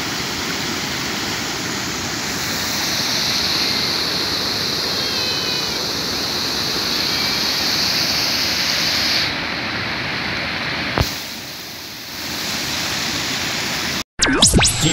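Heavy water rushes over a flooded low-water ford crossing at Poço da Pedra in rural Quixeramobim, a steady loud broadband roar that briefly dips near the end before resuming, with no talking.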